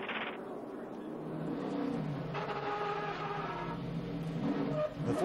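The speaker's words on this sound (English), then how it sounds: "Trouble off turn two. Got a car spinning." A NASCAR race car spins out off turn two at the 2012 AdvoCare 500, tires skidding and engine rising and falling in a rough, moderately distant wail amid other cars' roar.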